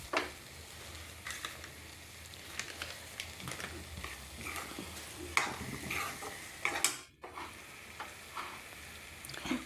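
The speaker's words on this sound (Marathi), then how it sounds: "परतून घेऊया." Garlic fenugreek leaves with a peanut, sesame and lentil gravy sauté in a pan, a steady soft sizzle under repeated scraping and stirring strokes of a spatula, close and moderately loud, with a brief drop near the end.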